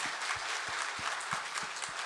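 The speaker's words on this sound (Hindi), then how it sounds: "जोरदार ताली की कंजूसी नहीं करनी है।" An audience at a Brahma Kumaris Shivjayanti gathering claps continuously, a dense crowd applause that sounds fairly close, with a few louder individual claps standing out in a rough beat.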